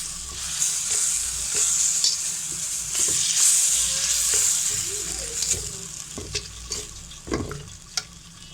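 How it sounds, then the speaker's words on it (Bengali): Vermicelli (semai) stirred in a pan after a third of a cup of liquid milk goes in, a loud frothy sizzle with scraping spoon strokes that come in uneven bursts and grow choppier toward the end. "সেমাইটাকে ভালোভাবে মিশিয়ে নেব।"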